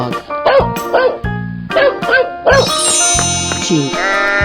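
A cartoonish dog in a 3D animal slide game gives four quick, bright barks in two pairs, followed by a rising musical jingle and chime effects.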